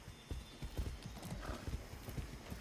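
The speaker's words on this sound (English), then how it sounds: "First person horse riding." Horse hooves clip-clop in a steady walking rhythm during first-person riding in a video game, close and clear, with a brief whinny-like tone mixed in and no talk over it.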